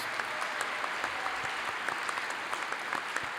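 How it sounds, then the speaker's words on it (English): A university commencement audience at a fall ceremony gives a round of applause, a brisk, dense patter of many hands clapping at a steady level for a few seconds. "Please join me in a round of applause for these individuals."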